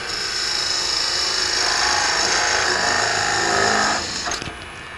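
A wood lathe spins a small spindle while a tool presses up from beneath to size a tenon, giving a steady, close whirring hum with scraping texture that eases off near the end.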